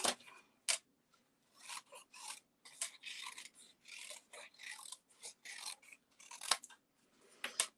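Scissors snip through paper, fussy cutting around a stamped ship in a crafting session, with a quick run of close, crisp cuts that come in short bursts separated by brief pauses.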